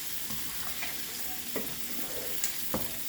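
Crumbled onions frying in a pan, with a steady close sizzle and a few scattered stirring scrapes and taps.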